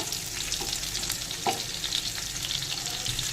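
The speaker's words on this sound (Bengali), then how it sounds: "এখানেই তেজপাতা দিয়ে দিলাম পোড়নের জন্য দিয়ে দিলাম জিরে একটু নেড়ে নেব" Steady oil sizzling and crackling as bay leaf and cumin fry, a couple of soft stirring clinks, continuous and close, with no voices.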